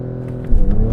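A 2022 Porsche 911 Turbo S engine roars up in a sudden, loud launch-control rev to about 4,500 RPM, held at high pitch for a brief moment close by.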